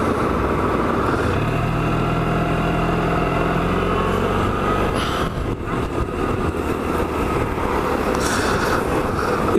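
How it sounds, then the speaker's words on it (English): Suzuki Burgman 650 maxi scooter, roughly 240–250 kg, heard from onboard during engine braking: a steady loud engine drone with low, gradually falling tones under continuous road and wind noise. "I really like the engine braking on this bike."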